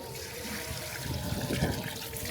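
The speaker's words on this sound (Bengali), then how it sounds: "এই যে গাইস আমি এখন পানি ঢালছি" Water is poured from a hand-held container onto a growing plant, a faint, steady trickling and splashing that lasts about two seconds.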